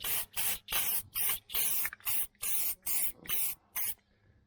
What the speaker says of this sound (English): I'm going to spray that over there, and use up this can on the bare metal.